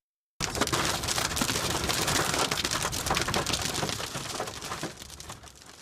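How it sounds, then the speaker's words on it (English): Hail pelts the roof of a news vehicle on a highway during a severe storm, a dense, loud, continuous rattling clatter that begins abruptly and eases slightly toward the end. "hail hammered the top of our news vehicle"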